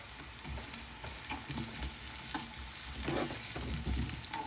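Chopped garlic sizzles in a pan of hot oil while making dhal fry, a continuous close crackle with occasional spoon scrapes and bumps against the pan, no voices over it.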